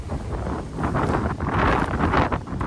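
Strong wind blasts into the microphone in gusts, a rough, loud rumbling roar that swells and dips without any talking.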